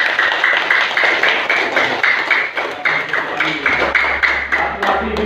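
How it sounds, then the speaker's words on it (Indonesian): Schoolchildren in a classroom clap together in a brisk, rhythmic burst of applause, close and fairly loud, with a little background noise. "Tepuk tangan untuk Saiful."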